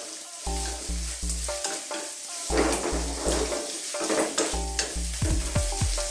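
Garlic sizzling in a pan for Filipino garlic shrimp, a steady bright frying hiss under a low droning background tone and occasional clinks of a utensil, close and without speech.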